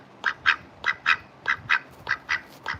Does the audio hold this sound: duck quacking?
yes